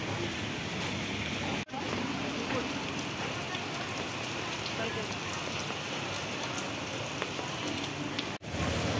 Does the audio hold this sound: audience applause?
no